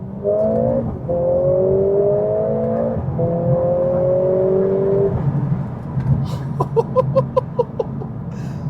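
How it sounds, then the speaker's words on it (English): A Mercedes-AMG A45 S engine revs hard through second and third gear, then the exhaust lets out a rapid series of sharp crackles and pops as it eases off. "Just listen to the snap, crackle, pop"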